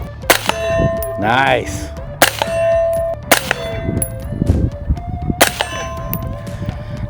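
Suppressed 5.56 rifle fired through a 3D-printed suppressor at an outdoor range, four sharp muffled shots each followed by a ringing metallic clang of steel targets, with a brief spoken word between.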